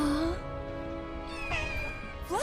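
A cat in Final Fantasy VII Rebirth meows several times, short rising and falling cries close up over soft game ambience and quiet background sound.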